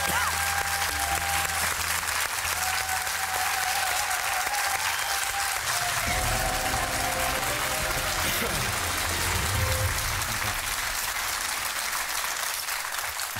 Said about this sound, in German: Dieser Applaus ist völlig unangebracht